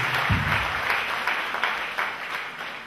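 A church congregation claps together for Jesus Christ during a prophetic service, a steady dense wash of applause running throughout, with a brief low rumble near the start.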